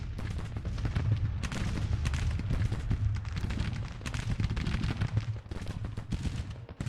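Dense musket and artillery fire from a Civil War battle in Grand Tactician: The Civil War, a strategy video game, with continuous crackling volleys over a deep rumbling bed of distant cannon, sustained and loud throughout.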